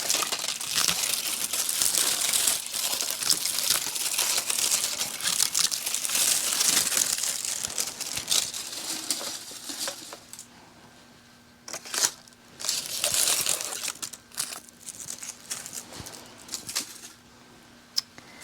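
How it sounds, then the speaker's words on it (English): Dry, crispy amaryllis leaves crackle and crinkle as they are pulled off the bulbs, close and continuous in dense bursts, easing into quieter scattered rustles toward the end. "So we're just going to pull off some of these crispy leaves now"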